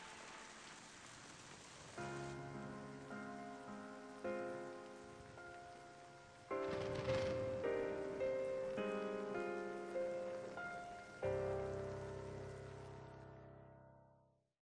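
Soft rain patters in a Final Fantasy XIII game scene beneath gentle piano-like musical notes that ring out and fade one after another, quiet overall.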